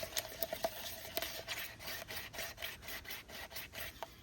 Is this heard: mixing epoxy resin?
yes